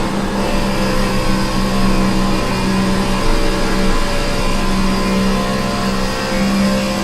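NASCAR Xfinity Series cars race at Las Vegas Motor Speedway in iRacing, a dense, continuous engine drone from several cars running close together, loud and steady with no talking.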